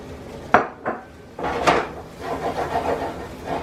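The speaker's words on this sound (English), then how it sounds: "See, I'm using a whisk because I don't want any lumps in there." Whisk working a sauce of coconut milk and sherry in a pan: a few sharp metallic clinks and knocks, then a steadier rattling scrape against the pan, fairly close.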